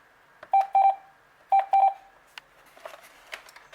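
A cordless phone handset gives two quick pairs of bright electronic beeps, each pair close together, followed by a few faint clicks and handling noises.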